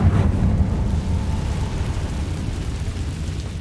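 A Confringo spell explosion in the video game Hogwarts Legacy, a loud, sustained, rumbling blast that roars steadily and stays heavy in the low end for several seconds without fading away.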